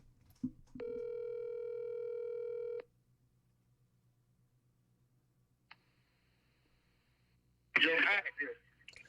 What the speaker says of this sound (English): I got a call.